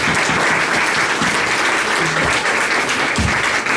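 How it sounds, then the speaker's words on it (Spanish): A loud, dense round of applause from an audience at a National Access to Justice Week event, sustained and continuous for the whole stretch, close and full with no speech on top. "Vamos a darle otro fuerte aplauso,"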